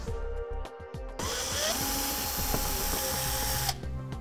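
A power tool removing screw fasteners from the bottom of the front fascia on a 2014 Ford Fiesta, a few short whirring bursts followed by one sustained high whine lasting a couple of seconds, close and clear.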